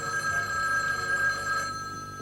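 A telephone rings steadily with a bright, continuous electronic trill, close and alone, in a domestic scene from a TV drama.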